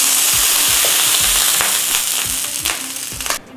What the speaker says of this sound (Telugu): ప్యాన్ బాగా వేడెక్కిన తర్వాత దోశ వేసుకోవాలి.